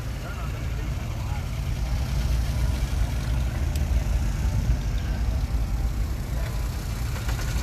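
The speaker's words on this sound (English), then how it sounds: "You got some cars rolling in here right now." Cars arriving at an outdoor fairground car show for classic 1955–57 Chevrolet Tri-Five models, a steady low engine rumble and idling hum close by, with crowd talk mixed in.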